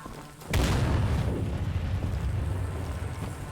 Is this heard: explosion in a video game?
yes